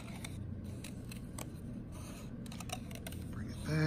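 Scissors snip through paper to cut a tessellation shape, soft intermittent clicks and cuts close by over a steady background hum.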